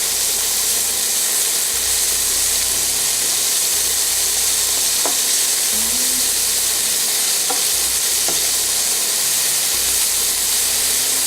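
Pork bacon sizzles steadily in a hot pan, a loud, even hiss of frying fat with a few faint scraping stirs and small pops over the top.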